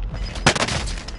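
Gunfire rattles in a Call of Duty match, a burst of sharp rapid shots peaking midway amid continuous game noise, moderately loud with no speech.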